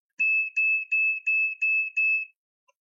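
A homemade electronic oscillator built around a 470 microfarad capacitor gives six evenly spaced high beeps in quick succession, thin and piercing like an alarm, then stops.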